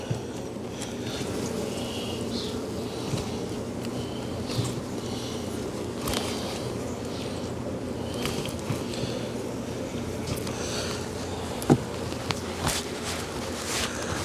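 Honeybees buzzing during a hive cutout as comb is removed from a box: a steady, low, continuous drone of many bees close by, with occasional clicks and knocks from handling the hive over the hum.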